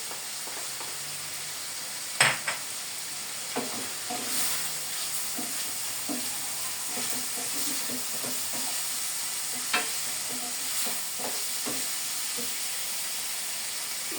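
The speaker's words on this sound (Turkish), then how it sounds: "İşte eti, soğanı, sarımsağı soteliyorum arkadaşlar." Meat, onion and garlic seasoned with black pepper, red pepper and salt sautéing in a pan, a continuous close sizzle broken by scattered utensil clinks and stirring scrapes, one sharp knock early on.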